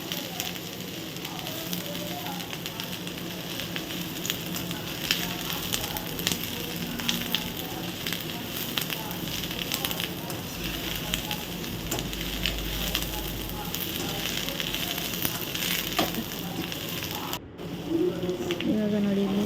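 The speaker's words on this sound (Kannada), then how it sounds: "ಅದನ್ನು ಕೂಡ ಇಲ್ಲಿ ನಾನು ಫ್ರೈ ಮಾಡ್ತೇನೆ" Capsicum and onion fry in a pan for a restaurant-style chilli chicken, a continuous close sizzle with faint stirring scrapes, and a voice briefly speaking near the end.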